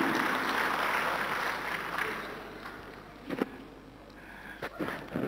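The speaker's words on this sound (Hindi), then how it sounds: "एक अच्छी जोरदार तालियां हो जाए उमेश जी के लिए" Loud crowd applause at a web portal launch event swells at first, then thins and fades to a few scattered claps and knocks near the end.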